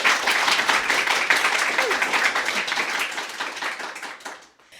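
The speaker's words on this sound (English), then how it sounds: "Everybody clap for Kandace with a K." An audience at a poetry reading claps for a performer, a close, dense burst of applause that gradually thins and fades out near the end.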